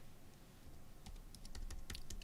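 Fingers tap a computer keyboard in a quick, faint burst of key clicks over a soft background hum, with no talking.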